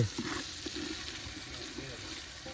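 Green chillies and masala frying and being stirred in a pan at an outdoor cooking party, a soft, even sizzle with light scraping and faint voices in the background.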